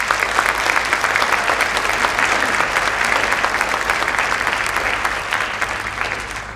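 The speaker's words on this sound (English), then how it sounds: "So please give them a round of applause." An audience at a high school spring band concert applauds, a dense sustained wash of clapping hands that carries on steadily before easing slightly toward the end.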